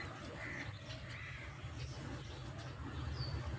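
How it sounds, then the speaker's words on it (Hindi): Flock of birds, crows among them, gathering on a village rooftop in the morning, cawing and calling in a steady busy chorus over a low background rumble, with a thin high call near the end. "छत पर सुबह के टाइम बहुत सारी चिड़िया आती हैं।"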